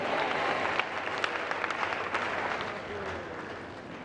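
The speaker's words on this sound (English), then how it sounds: "Another applause for him" An audience applauds Bishop Peter S. Saki after his peace address at a Promoting Peace event, with dense, sustained clapping and a few sharper individual claps standing out.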